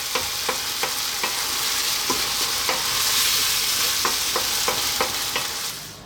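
Cream and Parmesan sauce bubbles and sizzles in a pan over medium heat, a constant close hiss broken by regular scraping strokes as the sauce is stirred.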